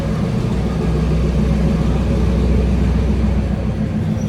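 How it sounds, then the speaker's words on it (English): Freight train hauling flour rumbles past on the Ferrocarril de Cuernavaca in Mexico City, a steady, loud, deep engine and wheel drone that holds evenly throughout with no voices. "The train, I've heard, carries flour to a flour factory that's in Polanco."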